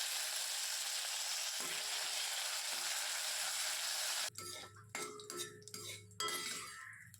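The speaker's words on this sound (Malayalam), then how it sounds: "ഈ വെളിച്ചെണ്ണ നന്നായിട്ട് ചൂടായി വരുമ്പോഴേക്കും അതിലേക്ക് അര ടീസ്പൂൺ കടുകിട്ട് പൊട്ടിക്കുക" Mustard seeds and dried chillies spluttering in hot coconut oil make a dense, steady hiss and crackle for several seconds, followed by sharp metal utensil clinks and scraping against the pan.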